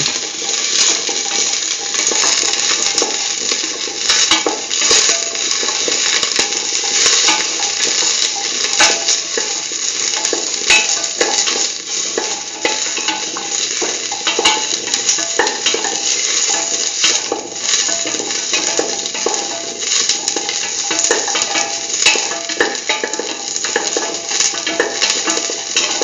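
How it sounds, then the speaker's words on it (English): Beetroot pieces salted and sautéed in a pan, with a steady, dense sizzling hiss and occasional scraping of a spoon stirring throughout, no voices. "Thoroughly saute and mix."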